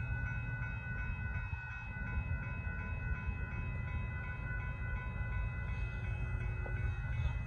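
Northbound CN 100th anniversary mixed freight train passing a road crossing at Dittmar Road in Austin, Texas, a steady loud rumble of rolling cars with high tonal squeal and ringing, continuous and without talk.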